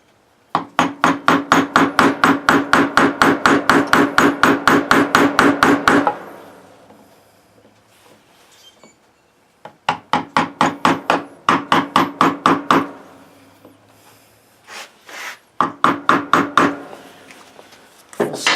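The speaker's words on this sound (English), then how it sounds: "That's the area that I have cut out with the chisel, and I'm just kind of slowly just chipping this away." Hammer strikes on a chisel chip away wood around a railroad spike being turned into a hook: rapid, loud, evenly spaced blows in a steady burst, a pause, then two shorter runs of hits.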